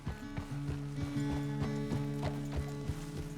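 Horse hooves clip-clop at a steady walking pace, a regular series of hollow knocks over an outdoor background with a faint low hum.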